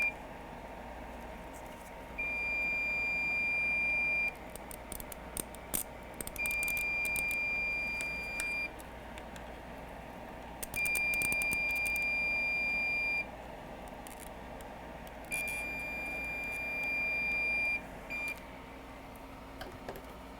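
Dying Hakko soldering station beeping, a series of shrill electronic tones of about two seconds each, repeating four times at regular intervals over a soft background hum.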